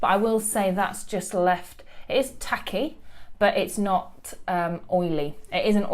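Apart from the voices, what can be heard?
None of the usual background noises is heard.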